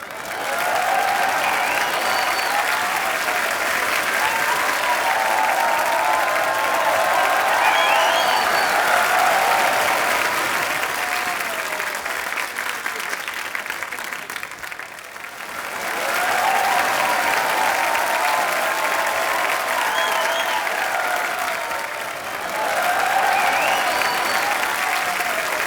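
A studio audience on a comedy talk show bursts into loud, sustained applause to welcome actress Ileana D'Cruz, the clapping dipping briefly midway before swelling again.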